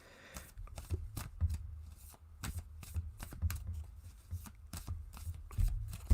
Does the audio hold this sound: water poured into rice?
no